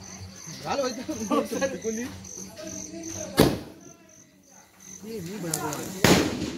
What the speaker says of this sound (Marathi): पोरं तिथं फटाके लावत आहेत.